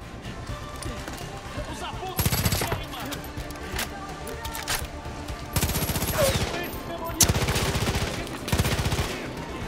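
Sniper and enemy gunfire ring out in a Far Cry game, loud rapid bursts of automatic fire in several separate volleys, each a second or so long, over a background of constant game noise.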